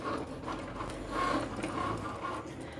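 A Cricut cutting machine cuts out a small sticker, giving a close, continuous mechanical whir with soft rhythmic ratcheting pulses of moderate loudness.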